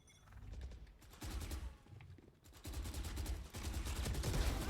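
Valorant rifle fire breaks out in repeated rapid bursts, close and fairly loud, separated by short pauses, with no talking over it.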